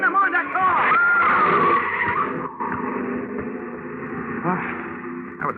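A radio-drama car skids with a long tire squeal up close, followed by a sustained rumbling engine and road noise, with no talk during the skid.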